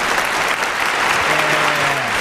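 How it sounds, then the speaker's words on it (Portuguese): Brief burst of studio applause, dense steady clapping from a small group, fairly loud and close. "Um aplauso pro Alain."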